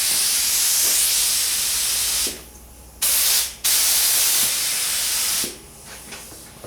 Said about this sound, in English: we're just spraying this down as a guide coat